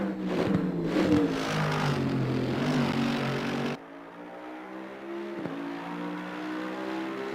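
Race car engine from a GT2 racing video game, heard from an outside perspective, with a loud droning harmonic engine tone that drops sharply in level midway, then continues as a quieter steady drone.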